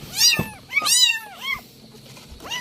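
Rescued abandoned street kittens meow repeatedly at close range, three loud rising-falling cries over a few seconds with no talking.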